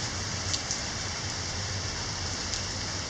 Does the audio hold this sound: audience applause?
no